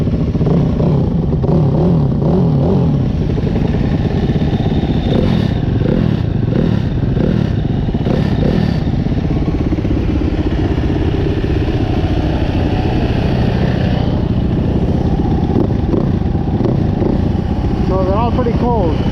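Dirt bikes warming up together, a Yamaha YZ450F, Husaberg FX450 and Husqvarna, give a close, steady, throbbing engine drone with uneven pulsing through the whole stretch, and a voice speaks over it.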